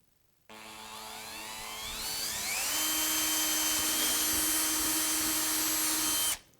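A power drill with a 3/16-inch bit whirs steadily for about six seconds, drilling a hole, its pitch climbing as it spins up, then cuts off abruptly. Loud and close, with no voices.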